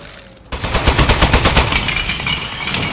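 A turret in Aperture Desk Job opens fire after a brief quiet, letting out a loud, rapid burst of rhythmic shots that continues steadily to the end.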